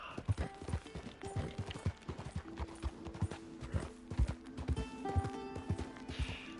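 Horse hooves clip-clop in a busy, uneven rhythm in Red Dead Redemption 2, with a whinny in the mix. The sound is fairly faint, with close game effects layered around the hoofbeats.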